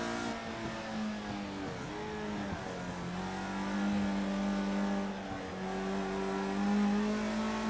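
Formula rookie race car engine in Project Cars 2, droning close and steady, dipping briefly at a corner, then climbing again with a rising rev as the car accelerates.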